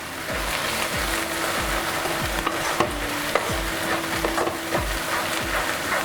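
Chili powder being stirred into egg bhurji in a hot pan: a spoon scrapes the pan in a steady rhythm of repeated strokes over a constant loud sizzle, close and with no voices.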